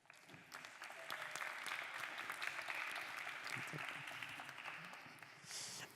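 A seated audience at a museum evening event applauds a speaker being introduced, a moderately loud, even round of many hands clapping that swells after the first second and tapers near the end.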